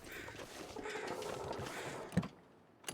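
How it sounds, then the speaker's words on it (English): A bird call in the survival video game The Long Dark: a distant, harsh crow-like cawing over a faint windy bed, ending with a sharp knock and a brief thud. "Sounded like one of those shoebill birds."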